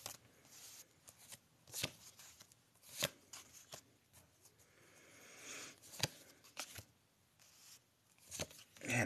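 Close, quiet riffling and slapping of a tarot card deck being shuffled, in irregular bursts with soft pauses between.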